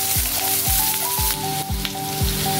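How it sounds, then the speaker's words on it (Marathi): Onion fries in hot oil for paneer tikka masala, a bright, dense sizzle close by, with several regular thuds from a utensil striking the pan and no voices. "थोडासा कांदा टाकून घेतलेला आणि व्यवस्थित फ्राय करायचा आहे।"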